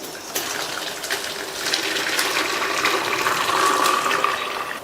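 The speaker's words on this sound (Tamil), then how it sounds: "இப்ப இதுல உள்ள தண்ணியை வடிகட்டிக்கலாம்" Water from blanched spinach (palak) is poured off and drained, a steady gushing and splashing rush that is close and fairly loud with no talk.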